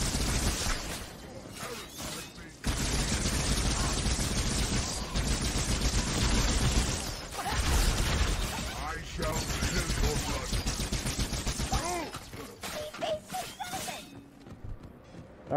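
Gunfire in Halo 2 Anniversary, bursts of shots and mechanical clatter, loud and dense through most of the stretch, thinning toward the end, with players talking over it.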